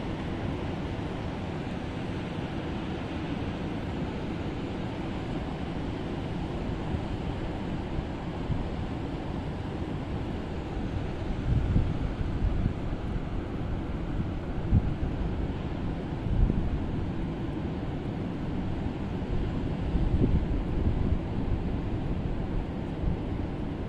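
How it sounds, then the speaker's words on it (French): Atlantic Ocean surf rolls steadily for a long stretch, a broad low wash swelling now and then, heavily mixed with wind buffeting the microphone. "recentrez-vous sur le mouvement de formation de la vague et sur son son"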